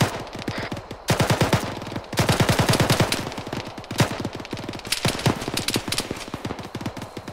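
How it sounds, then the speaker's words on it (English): A light machine gun fires in Arma 3 in rapid, sustained bursts, with loud close shots rattling in quick succession and brief pauses between volleys, and no talking. "one guy in that first tower with a light machine gun"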